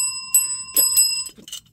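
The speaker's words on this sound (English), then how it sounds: "Where you get this bell from?" A bicycle-style bell rings sharply up close with a bright, sustained metallic tone, struck in a few quick dings that fade out.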